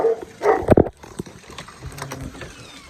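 A dog gives a few short, sharp barks up close, followed by quieter snuffling and shuffling sounds.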